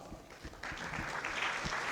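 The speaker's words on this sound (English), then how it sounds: "So give a round of applause." Audience applause at a tech conference talk, a few scattered claps at first, then a steady wash of clapping swells in and holds, moderately loud and close.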